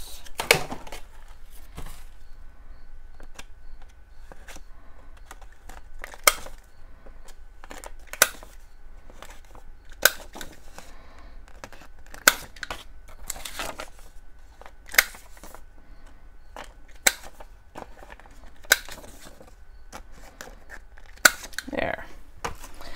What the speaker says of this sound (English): I'm going to trim these corners